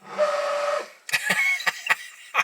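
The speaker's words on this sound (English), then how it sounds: "That's the washers." Original washer pump on a Jaguar E-Type Series 1 whirs in a steady electric buzz for under a second, then a string of sharp clicks and knocks follows, close and fairly loud.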